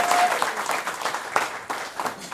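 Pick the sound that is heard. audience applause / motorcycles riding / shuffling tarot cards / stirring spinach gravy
audience applause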